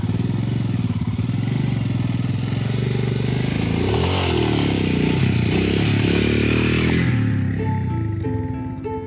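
A Yamaha R15 motorcycle is pushed off-road up a rocky hill with its engine running loud and close, revving and straining continuously before settling as the roar eases near the end.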